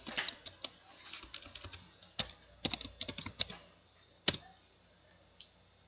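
Computer keyboard keys typed in quick irregular bursts, crisp close clicks with short pauses and a single sharp final keystroke, quiet room and no talking.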